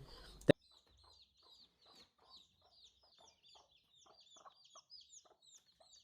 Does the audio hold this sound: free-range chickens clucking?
yes